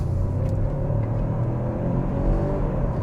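A Genesis G80 sedan pulls hard under acceleration, its engine rising in a steady, close-up revving whir heard from inside the cabin, with no one talking.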